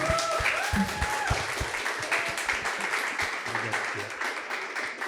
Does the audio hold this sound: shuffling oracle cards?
no